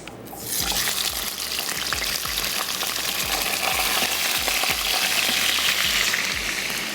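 Chicken pieces are added to a hot pan of oil for fry gosht, setting off a loud, continuous sizzle and crackle that holds steady throughout with no talking.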